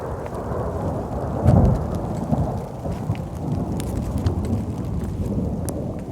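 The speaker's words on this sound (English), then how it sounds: "The thunderstorms picked back up when we had lunch" Steady heavy rain pours down in the valleys of Triglav National Park while a deep roll of thunder swells early on, then rumbles on low beneath the downpour.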